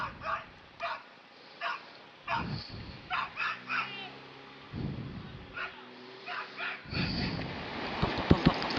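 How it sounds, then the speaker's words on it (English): A small dog yips and barks in short, sharp bursts close by, with whimpers between them, and a person talks over some of the barks. "Oh, pupper."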